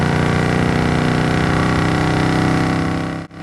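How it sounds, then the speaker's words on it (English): A 1973 Chevrolet K10 Cheyenne pickup's built 350 V8 rumbles loudly and evenly, its deep exhaust throb holding steady throughout before a brief dip at the end. "Exhaust sounds great."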